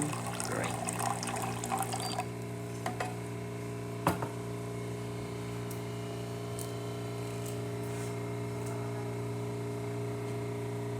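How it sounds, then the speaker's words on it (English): Hot water streams steadily from the spout of a Saeco coffee machine, a continuous hiss and trickle with a few louder splashes near the start, running on unbroken under a low machine hum. "we can see the spout dispensing hot water"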